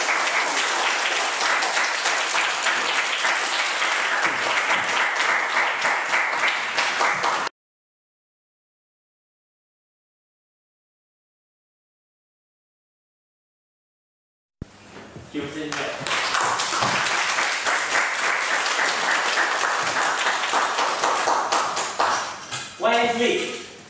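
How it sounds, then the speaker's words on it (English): At a speech evaluation contest, an audience breaks into loud, dense applause that stops abruptly, falls silent for several seconds, then resumes just as full and sustained. "Let's give YS a round of applause."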